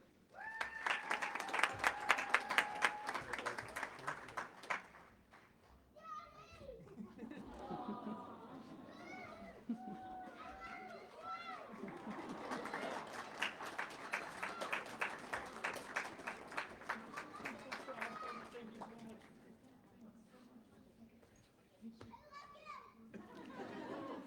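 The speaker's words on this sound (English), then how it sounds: "Comet Cleary has a very enthusiastic family member cheering him on" At a graduate studies hooding ceremony, a family member cheers enthusiastically amid scattered applause and excited children's voices, with lively chatter and clapping rising and falling throughout.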